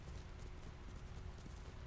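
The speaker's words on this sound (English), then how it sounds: "How do I make the horse go fast?" Horse hooves galloping in the video game Ghost of Tsushima, a fast, even clip-clop rhythm that is dense and steady but faint in the mix.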